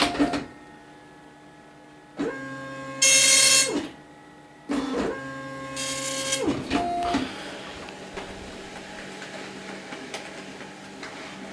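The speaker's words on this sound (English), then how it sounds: "And let's do a quick printer test." A Panasonic KX-P1524 wide-carriage dot matrix printer printing a test page, with loud buzzing passes of the print head, carriage whirring back and forth, and a mechanical hum between the bursts.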